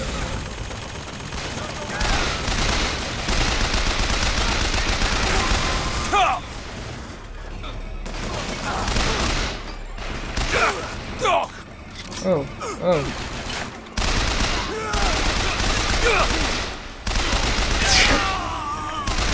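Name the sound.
gunfire in the video game Bioshock Infinite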